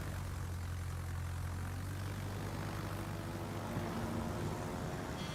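Propeller airplane engine in a video game, a steady low droning hum held at constant level through the whole stretch, with no talk over it.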